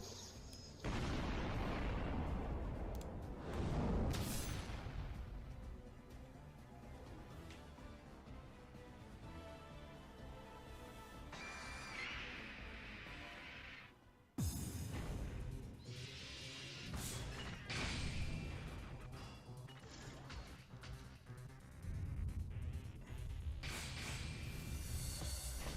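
Booming explosion effects from a 3D animation play loudly and continuously, with deep rumbling blasts, crashes and bursts layered over one another and a sharp cut partway through.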